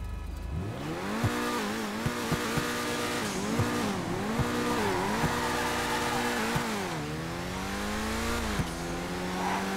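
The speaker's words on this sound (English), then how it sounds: "you can hear there's a turbo on it" Turbocharged car engine in GTA 5 Online revving repeatedly, rising and falling pitch sweeps with sharp turbo blow-off chirps between revs, close and loud, with tire squeal in places.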